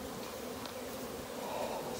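Honeybees buzz steadily around an old hive after a swarm, a dense, even drone with no pauses and no voices.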